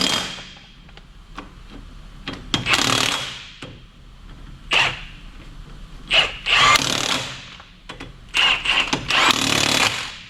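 Tightening wheel lug nuts in a cross pattern on a 1998-2002 Toyota Corolla, likely with a power tool: several short, loud mechanical bursts close by, separated by pauses, with no talk.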